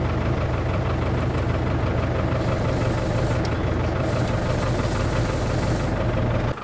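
A farm tractor's engine idles steadily and close by, a continuous low rumble with a faint knocking beat that holds evenly throughout, with no talking over it.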